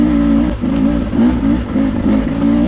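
A Beta dirt bike engine revs in a steady, lively rhythm of repeated throttle blips, loud and close with a rough mechanical clatter and no talk.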